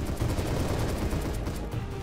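Gunfire from the Roblox game Apocalypse Rising 2: a dense, continuous crackle of rapid shots with no clear gaps, fairly loud throughout and heard without any talk.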